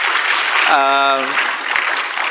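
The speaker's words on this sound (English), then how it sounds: "I think Prime Minister deserves an applause for that." Audience applause for the Prime Minister at a security forum, a steady dense wash of clapping throughout, with a brief tonal sound rising out of it near the start.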